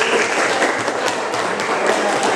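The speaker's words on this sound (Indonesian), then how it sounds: "Berikan tepuk tangan dulu untuk kelompok 1." Classroom applause for a student group, a dense, continuous clatter of many hands clapping close by, holding steady throughout with faint voices underneath.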